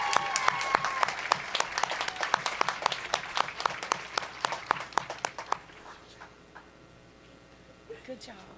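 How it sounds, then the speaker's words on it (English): A graduation ceremony audience claps in dense, steady applause that fills the hall, then thins out and fades to scattered claps and murmuring near the end. "Let's give them another round of applause as they take their seats."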